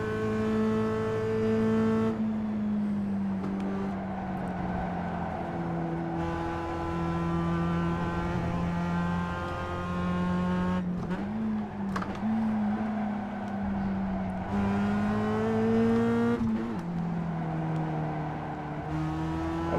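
A Mazda Miata races around Interlagos in iRacing, its engine droning steadily near and loud, pitch rising and falling through gear changes and lifts, with brief tire creaks, and no talking over it.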